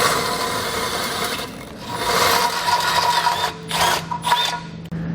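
Drill bit enlarging a hole through a vehicle frame rail while a Roadmaster crossbar-style base plate is installed. A continuous grinding, rasping whir goes on for most of the five seconds, with a few brief dips.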